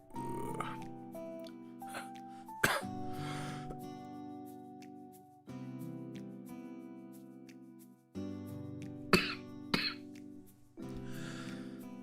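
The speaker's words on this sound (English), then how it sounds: "I'm genuinely getting lightheaded from all the coughing" Several harsh feverish coughing bursts break through a steady background hum, coming in uneven fits close to the microphone.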